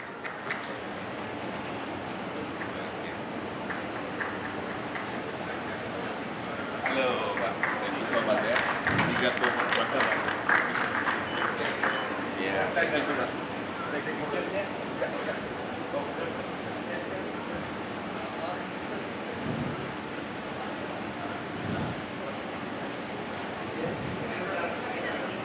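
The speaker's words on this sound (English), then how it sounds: "let us give a warm round of applause to GoTo, Mystic Garuda Venture, and Jaffa Confit for their valuable support and contribution" Audience applause at a conference event in Jakarta, a broad swell of clapping rising in the middle and fading, with a voice speaking over it.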